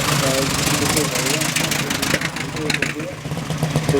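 A vintage Mercedes racing car with a 7.24-litre engine roars past nearby at a Shuttleworth race day, with a rough, mid-pitched knocking, a voice talking over it throughout.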